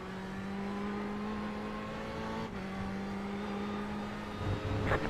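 Ferrari 488 GTE and rival-class race cars in a Monza racing game, a steady high engine drone at constant pitch throughout, with a brief shift midway and a rougher surge near the end as another car closes in.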